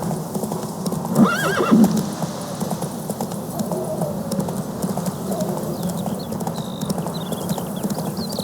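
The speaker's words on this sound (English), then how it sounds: "Run, Roach." Roach, the horse in the video game Witcher 3, with steady hoof clip-clop throughout and a loud, close neigh early on, over a continuous ambient bed with faint bird chirps later.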